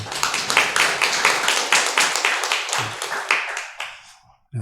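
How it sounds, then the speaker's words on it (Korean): A church congregation claps steadily together, the rhythmic applause fading out near the end. "우리 하나님께 영광의 박수 올려드리겠습니다"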